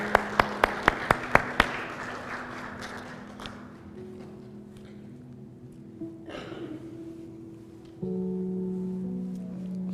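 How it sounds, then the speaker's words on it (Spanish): A short burst of crisp, evenly spaced hand claps fades within two seconds into a quiet church room as Mariana and her daughter Jacqueline are welcomed at a thanksgiving service, followed by low murmuring and faint music. "voy a pedir que reciban con un aplauso"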